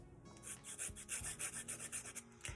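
Dried air dry clay edges are sanded smooth, a soft, rhythmic rasping rub of repeated short strokes, close and fairly quiet with no voices.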